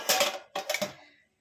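A lid set down over a pot of Basonti pulao made with Gobindobhog rice on a low flame, heard as two short metallic clanks close together, alone and close by.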